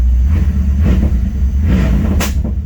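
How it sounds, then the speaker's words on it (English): A straight-piped car with no muffler or catalytic converter revs loudly and close by, its raw exhaust roar rising and falling in a few swells over a steady low rumble. "straight pipes on this car. No muffler, no catalytic converter, just straight pipes."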